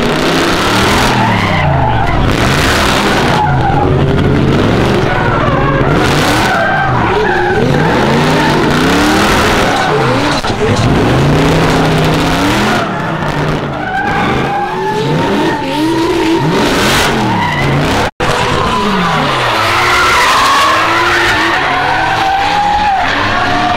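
A drift car at the first round of the Brazilian Drift Championship in Piracicaba skids and accelerates, with loud, sustained tire squeal and rising and falling engine revs that carry close and continuous for the whole stretch.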